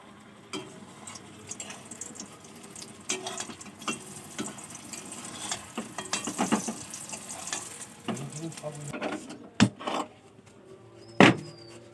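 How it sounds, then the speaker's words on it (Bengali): Sliced eggplant frying in oil in a home kitchen pan, a soft continuous sizzle mixed with clattering utensil knocks and stirring, plus a couple of sharp metallic clinks near the end. "আর এখানে বেগুন ভাজা হচ্ছে।"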